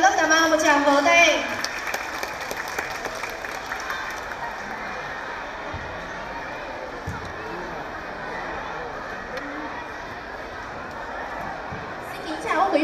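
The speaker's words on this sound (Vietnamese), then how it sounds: "chúng ta hãy dành cho lớp 8A một tràng vỗ tay" Brief applause from a school audience at a reading and science fair opens the moment, then fades into a room of murmuring voices and hubbub.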